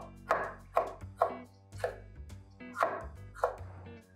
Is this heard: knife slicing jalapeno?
yes